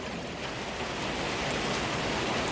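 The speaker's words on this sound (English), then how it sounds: "it's one of those wet, rainy, windy Pacific Northwest days" A rain squall on a wet, windy Pacific Northwest day, heavy steady rain hissing across surfaces nearby with a constant broadband wash and no voices.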